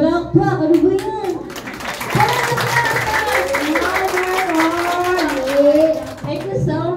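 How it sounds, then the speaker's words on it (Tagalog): An audience at a brand ambassador contract signing event claps steadily, with a voice speaking over the applause throughout. "Napakahina naman ang palakpak."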